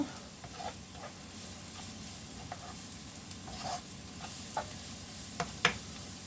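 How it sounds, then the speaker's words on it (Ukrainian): Carrots fry in a pan for borscht, giving a quiet, steady sizzle broken by a few soft clicks and scrapes of stirring. "Піджарилася, висипаю морковку. Морковку прожарюємо."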